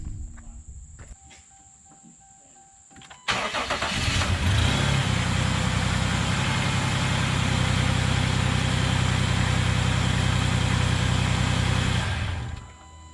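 A car engine cranks and starts, then settles into a steady, even idle that runs for several seconds before cutting off, with no leftover noise.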